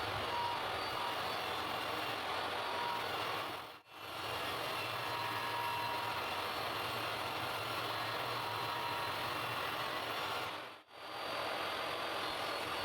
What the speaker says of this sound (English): the first thing I need to do is rip off the part where the hinges were fitted, and then I can cut a front and back panel